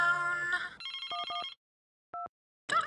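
A telephone rings in the hospital management game Theme Hospital: a run of electronic trills followed by one shorter ring, close and clear, with no talk over it.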